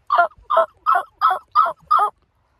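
A person's voice imitates a turkey gobble, six quick, evenly spaced yelping calls in a row, close and clear, with no other sound around them.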